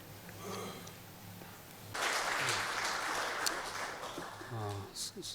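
Church congregation applauding the choir after a Christmas morning hymn, a broad steady clapping wash rising suddenly and continuing for several seconds, with speech heard before it starts.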